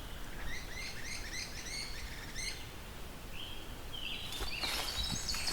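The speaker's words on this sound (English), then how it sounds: "great-crested flycatchers. That's what makes that sound." Repeated whistled great crested flycatcher calls ring out in quick rising phrases over quiet forest ambience, then a louder burst of chirps near the end.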